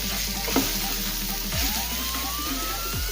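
Paneer masala with spices sizzling and frying in a pan while being stirred, steady crackling sizzle with a few scraping stir strokes against the pan, close and continuous.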